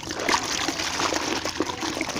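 Water from a bucket sluiced over a car during a hand wash, a continuous close trickling and splashing with no voices.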